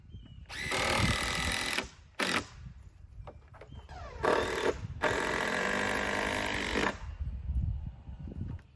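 A power drill drives a screw into a wooden arbor post in a backyard build, several whining bursts of varying length separated by short pauses, close and loud.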